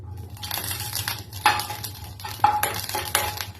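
Two slit green chillies frying in oil in a pan, heard close as crackling pops with metallic clinks and scraping against the pan, no voices.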